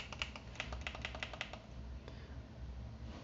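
Analog sticks of an iPega PG9078 Bluetooth phone controller are pressed in, giving a quick run of about a dozen sharp, close clicks that stop abruptly, followed by quiet handling with one faint click.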